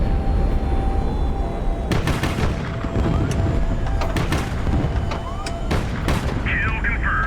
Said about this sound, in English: Launching off one of our downward missiles. Target destroyed.